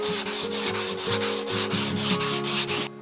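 Wood being hand-sanded along the grain with 120 grit sandpaper, a steady back-and-forth scratchy rubbing in even strokes, close and continuous for about three seconds, then stopping abruptly.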